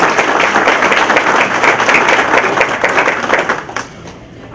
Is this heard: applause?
yes